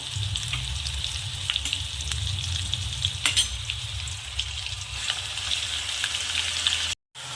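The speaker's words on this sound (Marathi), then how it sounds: "आता तेल तापत आलं आपण हे ॲड करू वाटण मोहरी ॲड करायची होती आणि जिरं" Mustard seeds, cumin and ground paste sizzling in hot oil, a dense, even crackle close up with faint pops, steady throughout and cut by a brief dropout near the end, no voices.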